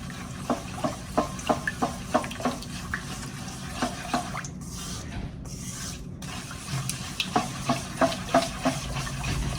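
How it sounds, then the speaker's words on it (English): A rice wine vinegar and sugar marinade being stirred in a bowl, light rhythmic scraping taps in two bursts with a brief pause between, close and moderately quiet, no talk. "And then you just mix it, let the sugar start to dissolve a bit."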